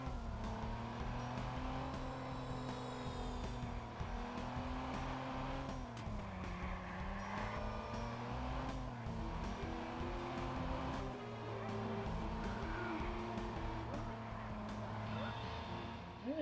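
A car in the video game Watch Dogs drives with a steady engine drone that rises and falls as it accelerates, with brief tire squeals, running continuously under ongoing talk.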